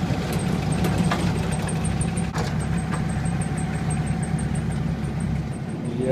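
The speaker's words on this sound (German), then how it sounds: "ich sitze da hoch mit meinem Traktor" A tractor engine idles steadily and fairly loudly on a trip hauling wood in a forest, a constant low rumble with faint regular ticking above it.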